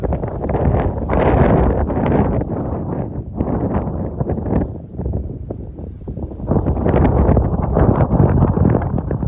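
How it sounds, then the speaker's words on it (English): Strong wind buffets the microphone in loud, continuous gusts, roaring steadily with brief dips before surging again, along Route 26 by the Snake River in Wyoming. "Windy here."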